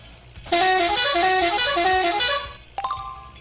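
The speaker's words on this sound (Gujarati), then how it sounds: "એટલે વગાડી દેવી એક હોર્ન" A loud vehicle horn blares steadily for about two seconds, then gives a brief second honk, with quiet road noise around it.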